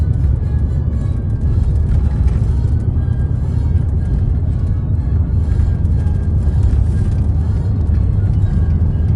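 A car driving through Lexington, Kentucky past Transylvania University toward downtown, a loud steady interior road rumble and engine drone with no breaks.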